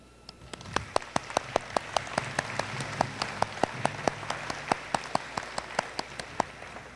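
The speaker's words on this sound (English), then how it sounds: "Let's give ourselves and each other a big round of applause." Scattered, faint hand claps from a crowd at a university graduation ceremony, sparse and fairly evenly spaced over a low background hush.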